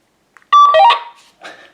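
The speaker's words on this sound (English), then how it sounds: "I can press this one to let her know that I'm ready for the test, because it should still beep on here the same sort of way." A DIY silent warning system with an LED alert gives a short, loud electronic beep followed by a fainter second tone, close by and alone without talk.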